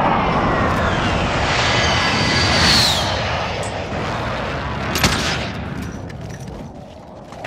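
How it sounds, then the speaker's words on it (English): A precision airstrike roars over in Call of Duty: Modern Warfare, a loud continuous jet rush that swells and sweeps past near the three-second mark, with a sharp crack around five seconds amid background gunfire. "Allied precision airstrike incoming."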